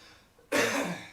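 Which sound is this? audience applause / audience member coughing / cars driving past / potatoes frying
audience member coughing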